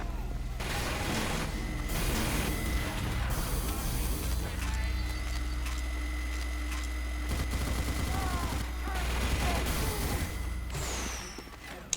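Sustained gunfire in Team Fortress 2 video game, heavy overlapping bursts and booms filling the whole stretch at close range, with game sounds layered underneath.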